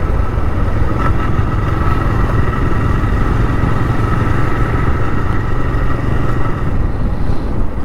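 A motorcycle engine drones loudly and steadily while riding toward a fair in Rourkela, Odisha, a constant close rumble with wind noise and no pauses.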